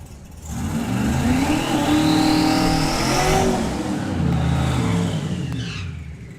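Drag racing cars at Bug Jam roar past loudly, engines revving hard with rising pitch sweeps that peak mid-run, then a second burst of acceleration near the end.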